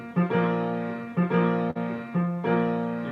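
A piano plays a slow passage from a song with the sustain pedal held, so each chord rings on and blends into the next; four chords are heard, close and clear, with no talking.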